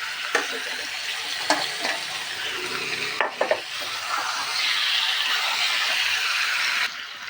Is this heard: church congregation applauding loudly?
no